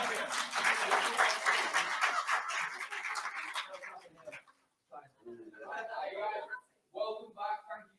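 Conference audience applause welcoming guests back on stage, a loud burst of clapping that fades out after about four seconds, followed by a speaker talking.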